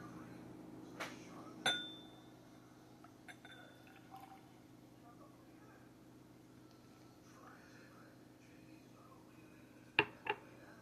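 Bourbon whiskey from a bottle is poured into a glass during a blind tasting, faint and brief, with a couple of soft clinks of glass near the start and again near the end, amid quiet room tone and no talking.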